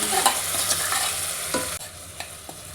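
Dal and rice frying in oil for pongal, stirred in the pan with a soft steady sizzle and a few sharp scrape clicks of the spoon, close and without speech.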